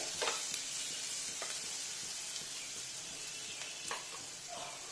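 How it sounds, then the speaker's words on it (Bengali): Onions fry lightly in a pan with a soft, even sizzle, broken by a few spatula stirs and scrapes at a low volume. "পেঁয়াজটা আমার হালকা ভাজা হয়ে এসছে"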